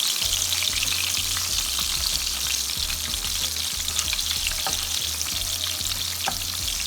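Meatballs fry in a pan over low heat, a constant, even sizzle with a faint low hum underneath and occasional soft clicks as they are turned, close and without talk.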